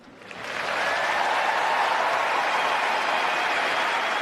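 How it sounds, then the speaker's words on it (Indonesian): At Wimbledon 2021 a standing crowd breaks into applause that swells within half a second into a loud, dense, sustained roar of clapping, with no voices standing out. "Hari itu tepuk tangan membahana, para penonton berdiri untuk Sarah"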